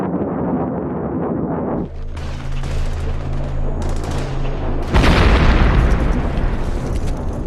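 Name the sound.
AC-130 gunship gunfire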